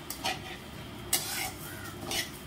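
Coarse roasted grain flour (bharda) turned over in a pan, with three soft scraping strokes separated by short pauses, faint and close, alone.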